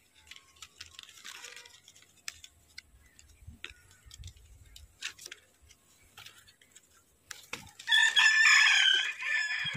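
A junglefowl hybrid rooster crows loudly near the end, after quiet stretches of faint clicks, ticks and rustling.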